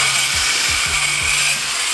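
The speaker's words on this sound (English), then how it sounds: "he cut one side of the shock because it just doesn't come out" A power tool cuts through a car's shock absorber during a coilover install, giving a loud, steady hissing grind with several short downward-sweeping pitch drops as the blade bites.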